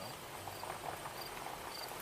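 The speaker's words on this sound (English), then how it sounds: "Cricket." Crickets chirp faintly and steadily outdoors along a rural road in summer, a thin high trill running under quiet background with no voices.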